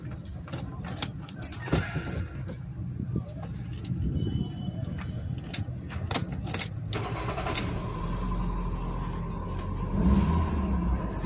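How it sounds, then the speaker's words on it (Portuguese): A car engine cranking and starting after a fuel pump refill is fitted, with jangling keys and clicks first, then the engine catching into a steady idle rumble, with people talking nearby. "Vamos ver agora se o carro pega."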